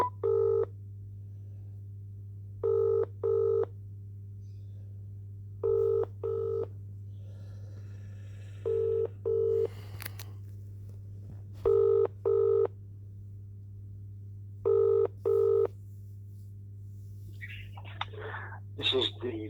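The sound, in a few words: telephone dialing tones and ringing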